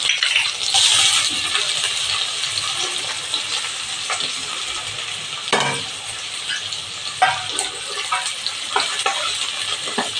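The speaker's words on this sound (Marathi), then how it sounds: "कांदा घालणार आहोत।" Chopped onion sizzles steadily in hot oil with green chilies in a home kitchen pan for dal khichdi, with a spoon clinking and stirring now and then.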